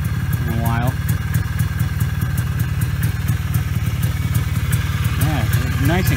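A Trail Boss 250 engine idles with a steady, quiet mechanical chatter close by, and a voice talks briefly over it near the start and again near the end.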